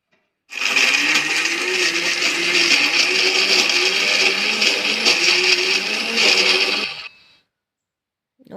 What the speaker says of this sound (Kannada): ಅದು ಕೂಲ್ ಆದಮೇಲೆ ಮಿಕ್ಸಿಗೆ ಹಾಕಿ ರುಬ್ಬಬೇಕು. ನುಣ್ಣಗೆ ರುಬ್ಬಬೇಕು.